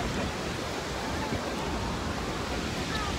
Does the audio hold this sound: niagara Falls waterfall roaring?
yes